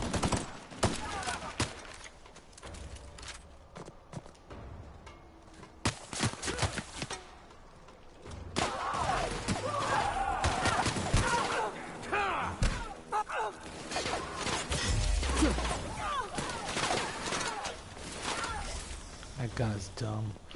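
Guns firing in The Outer Worlds, with bursts of shots and heavy thuds recurring through a busy, loud game mix while someone talks over much of it.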